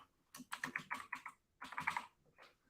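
Computer keyboard typing during a ReactJS coding session: two quick bursts of close, crisp keystrokes separated by a short pause, fairly quiet and with no voice over them.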